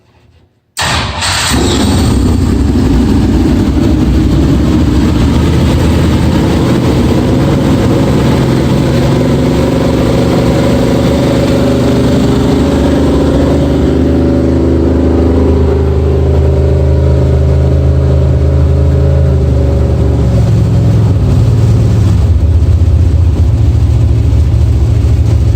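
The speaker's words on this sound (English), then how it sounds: "I'm going to fire up the engine to show you how well it works." A race car engine cranks and catches after a brief silence, then idles loud and close with a rough, uneven note, its idle speed shifting as it is adjusted from the cockpit, with some revving toward the end.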